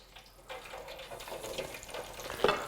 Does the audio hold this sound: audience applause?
no